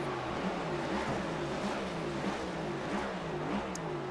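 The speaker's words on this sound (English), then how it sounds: "Already revving the engine" A race car engine revs in a pit stall in the iRacing sim game, a continuous rough drone with repeated rises and dips in pitch, steady and moderately loud, with no talking.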